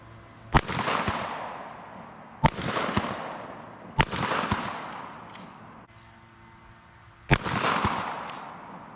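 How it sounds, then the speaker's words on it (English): Sharp blasts from a cylinder bore shotgun firing .410 double ball and birdshot rounds: four loud reports, the third and fourth about two and three seconds apart, plus one fainter shot, each trailing off in a short echoing decay. "This is a cylinder bore shotgun."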